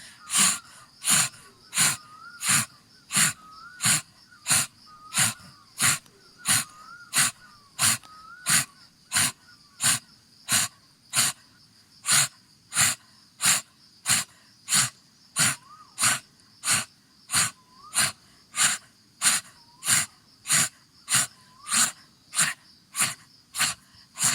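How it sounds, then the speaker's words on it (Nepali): Open-mouthed pranayama breathing during a meditation session, a steady run of about forty sharp, even breaths in a fast regular rhythm, close and clear with no talk. "मुखलाई खोल्नुहोस्, सास तान्दै फाल्दै, तान्दै फाल्दै"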